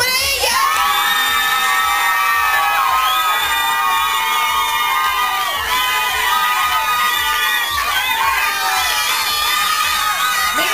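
At a Latin American children's Christmas party in Rome, a crowd cheers, whoops and shouts loudly over music, with children's voices prominent in a continuous, energetic din.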